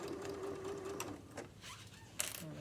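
A sewing machine runs steadily in reverse, stitching fabric for a tote bag, its motor hum continuous and close, with a brief sharper click near the end.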